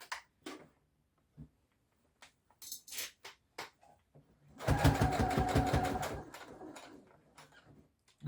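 A sewing machine stitches in the ditch along the centre back seam of trousers, a steady close rattle of rapid stitches for a couple of seconds amid scattered small clicks and handling noises.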